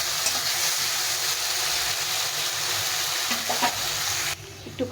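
A paste of onion, garlic, chilli and ginger sautés in hot oil for a duck egg curry, giving a steady moderate sizzle with light stirring and a few utensil clinks, and the sizzle fades near the end.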